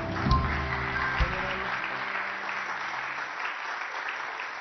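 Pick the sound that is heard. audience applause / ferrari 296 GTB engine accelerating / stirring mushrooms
audience applause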